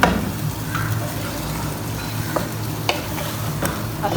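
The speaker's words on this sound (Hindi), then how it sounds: "इसको एक बार अच्छी तरह से मिक्स करते हैं" A spoon stirs chicken mash dal with tomato paste and water in a hot pan, soft sizzling running throughout with several sharp scraping clinks of the utensil, no voices.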